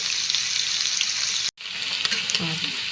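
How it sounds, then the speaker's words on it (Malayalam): Paneer shallow frying in oil in a pan, a steady dense sizzle throughout, briefly cut out for a moment before resuming, close and fairly loud. "പനീരില്ലേ അതെല്ലാം കൂടി ഷാലോ ഫ്രൈ ചെയ്യാം കേട്ടോ"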